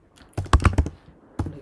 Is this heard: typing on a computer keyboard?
yes